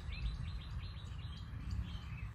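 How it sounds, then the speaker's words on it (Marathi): Several birds chirp in quick, light calls outdoors, steady but somewhat faint, with no one speaking. "पक्ष्यांचा किलबिलाट"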